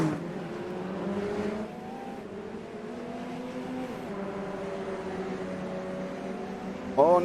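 A Radical race car engine drones through the turns at the Catalunya circuit, pitch rising and falling as it shifts, with steady mid-distance engine tones and a sharper rise at the end.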